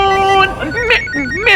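A mobile phone ringtone plays a melodic, electronic tune nearby in a dramatized household scene, with voices talking over it.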